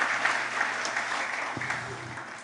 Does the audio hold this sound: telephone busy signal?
no